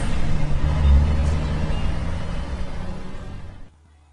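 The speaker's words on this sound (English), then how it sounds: "when a truck drives past, it also has a noise level of approximately" A truck rolls past on a road with a loud, broad engine and tyre roar and a low rumble. It holds steady for over three seconds, then cuts off sharply into near silence.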